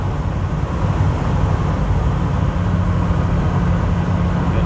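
Cabin drone from a 2006 Ford F-350 King Ranch 4WD with a 6.0L Powerstroke diesel cruising at highway speed, a steady loud low rumble mixed with road and tire noise, no talking.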